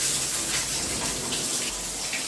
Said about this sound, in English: first I'm going to test the water just to make sure it's lukewarm and it's not too hot for her